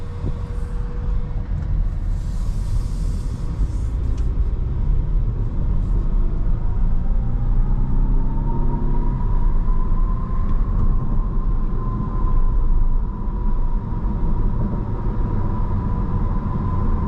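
A 2024 Volvo S60 T8 plug-in hybrid drives along, heard from inside the cabin as a steady low road rumble with a faint rising motor whine and no talking.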